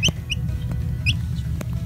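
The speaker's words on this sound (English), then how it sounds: "And she's a Dominique type of chicken." A young Dominique chicken gives a few short, high clucks and chirps, spaced irregularly over quiet, low background noise.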